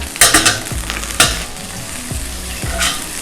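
Egg fried rice stirred in a frying pan, with a steady close sizzle and repeated scraping, tossing strokes of a utensil against the pan.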